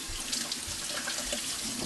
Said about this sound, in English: I have a cup and a quarter of water here, and I'm going to use a cup to start